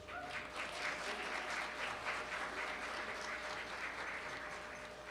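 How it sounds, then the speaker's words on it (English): Sustained applause from an audience at an evening reception, a dense, even patter of many hands clapping that fades slightly toward the end, heard from within the room. "clap it up for yourselves"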